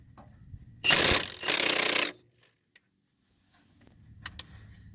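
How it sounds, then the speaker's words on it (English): Two hard bursts of a Milwaukee impact wrench drive a 15mm socket on a 5-inch extension against tight bolts while replacing the hub bearing of a 2000 Pontiac Grand Prix GT. The bursts are loud and close, separated by a short gap, with faint clinks afterward. "Give me enough access to get a 5-inch extension and a 15 in my Milwaukee impact"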